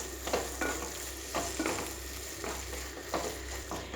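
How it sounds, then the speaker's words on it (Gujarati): Tempered vaghareli khichdi is stirred after fresh coriander is added, giving soft, rhythmic scraping strokes over a gentle sizzle, fairly quiet and close, with a low hum underneath. "હવે એની અંદર આપણે ઘણી બધી કોથમીર એડ કરીશું અને ફરીથી મિક્સ કરી દઈશું"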